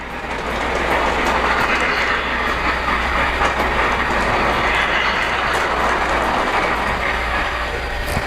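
A Polar Express model train rolls along its track and over a switch, giving a steady close rail hum with light clickety-clack throughout and no voices.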